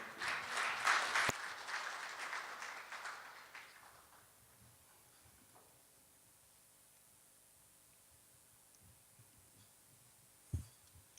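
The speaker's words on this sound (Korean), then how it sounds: "네, 큰 박수 한번 부탁드리겠습니다." An audience claps briefly at a business CEO forum. The applause is fairly faint and fades out within about four seconds, leaving quiet room noise and a single knock near the end.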